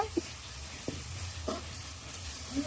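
Spice paste for a tilapia and potato curry sizzles and fries in oil while being stirred, with a soft steady hiss and a few light scraping stir strokes spread through the stretch.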